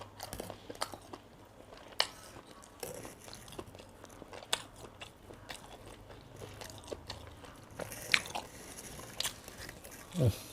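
Someone eating ham pizza, with soft bites, crunches and chewing close to the mic, plus occasional louder crisp bites and scrapes over a quiet background.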